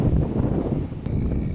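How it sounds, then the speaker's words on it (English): Wind gusts buffet the microphone in a low, steady roar at North Dandalup Dam, Western Australia, rumbling continuously with slight surges throughout. "Oh, it's windy."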